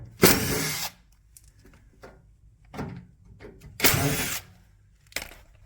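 Screws being driven out of an LG 9 kg front-loading drum washing machine with a power driver, several short whirring bursts separated by pauses and small clicks, close up with no talking.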